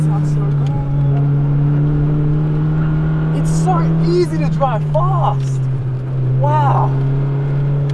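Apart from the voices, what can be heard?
race car engine revving on a track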